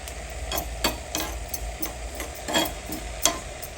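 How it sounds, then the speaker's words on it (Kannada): Cumin seeds fry in ghee in a small tempering ladle, producing scattered crisp pops and ticks over a low background hiss at close range, with no talking. "ತುಪ್ಪದಲ್ಲಿ ಜೀರಿಗೆಯನ್ನು ಹುರ್ಕೋಬೇಕು ಚೆನ್ನಾಗಿ"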